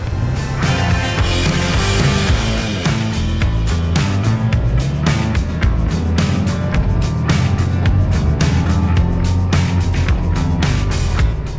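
A Honda Gold Wing motorcycle accelerates at the Interlagos circuit, its engine rising in pitch with repeated gear shifts breaking the steady roar, loud and close with no talking.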